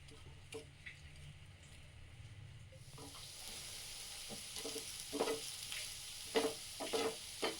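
Masala dosa crisping with ghee on a hot pan gives a soft, steady sizzle that swells partway through. Scraping and stirring taps are scattered over it, with no voices.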